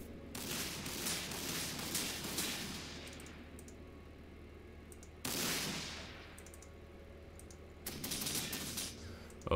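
Heavy lascannon blasts in the video game Warhammer 40,000: Sanctus Reach, three loud roaring bursts with sizzling decays, fairly close and separated by quieter gaps of low rumble.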